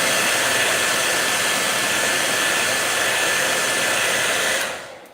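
Close, loud hair dryer blowing to dry paint, a steady whooshing roar that holds evenly and then cuts off at the end.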